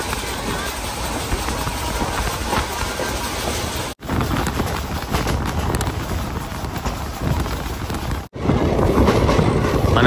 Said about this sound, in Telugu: అంత స్పీడ్లో అయితే వెళ్తుంది అనమాట ట్రైన్ అయితే.